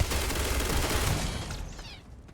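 Rapid automatic turret gunfire in the sci-fi video game Starfield, a dense loud burst of shots that trails off toward the end.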